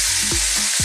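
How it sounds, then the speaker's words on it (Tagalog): Cooked rice goes into a pan of frying garlic for garlic fried rice, giving a loud, steady sizzle with a few stirring scrapes, close up and with no talking. "Lalagyan na po natin yung ating kanin."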